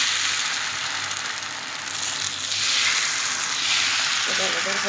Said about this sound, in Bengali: এখানে একটু অয়েল দিছি আমি এখন এটা গরম হয়ে গেছে তো এখান থেকে আমি এখন ধোসা বানাবো